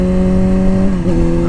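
An 800-horsepower drag race car engine idles loud and close, a steady rumbling drone with a brief dip near the end, heard alone without talk.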